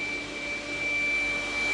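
A household vacuum cleaner running steadily at close range, a continuous broadband whoosh with a thin high whine on top and no voices.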